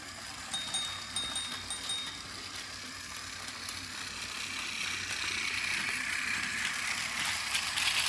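A Playrail toy train runs over bumpy yellow plastic track, a quiet continuous rattling and clicking with small irregular knocks early on, faint and without talk.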